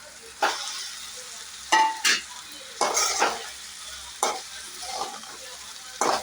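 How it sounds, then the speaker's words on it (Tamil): Fried idli pieces are tossed and mixed in a frying pan with a spatula, making repeated scraping strokes every second or so over a steady background sizzle of oil. "மிக்ஸ் பண்ணிக்கலாம். ஃப்ரைடு இட்லி ஆட் பண்ணிக்கலாம்."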